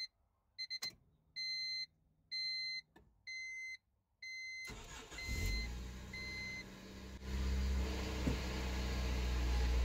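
A Honda Civic EK hatchback engine starts after several short electronic chime beeps, cranking briefly then catching into a rough, rising idle rumble close by, with no speech.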